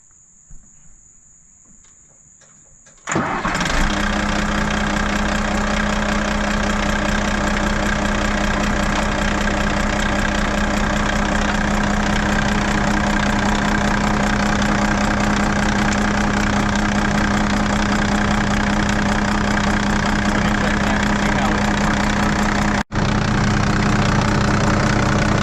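A tractor or pump engine with its starter wired to 24 volts at a pond cranks and catches after a few quiet seconds, then settles into a loud, steady, rumbling idle. One brief dropout comes near the end before it runs on.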